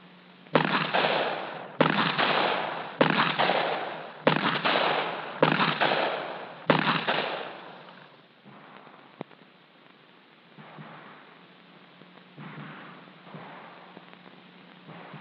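Handguns fired in a 1974 FBI police firearms training session, with six sharp, loud shots evenly spaced about a second apart, followed by quieter, more muffled bursts and range noise.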